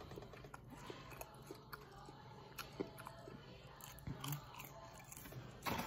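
Chick-fil-A waffle fries being eaten, with soft close crunching and chewing bites spread irregularly through steady faint background noise, no talking.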